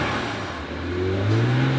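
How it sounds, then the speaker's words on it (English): A repaired BMW car engine, no longer backfiring, revs up close by: a smooth steady hum that climbs in pitch and loudness as the throttle opens, with no voices. "when you step on the gas, it goes"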